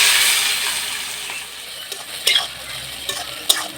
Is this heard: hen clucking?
no